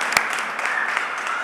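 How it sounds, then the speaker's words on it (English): An audience claps at a Brooklyn Fashion Week event, a brief, fairly loud patter of many hands with one sharper clap near the start, continuing evenly without talk. "There you go, clap it up."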